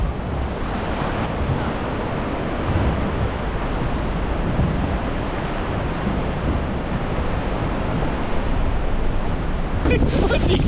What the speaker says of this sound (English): Look at all these waves.